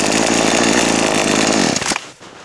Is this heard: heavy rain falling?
no